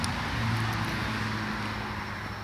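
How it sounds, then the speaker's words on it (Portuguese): Cars going by on a nearby road, heard as a steady, fairly loud roadway rumble and rush with a low hum and no voices. "esses barulhos que vocês estão escutando aí é carro"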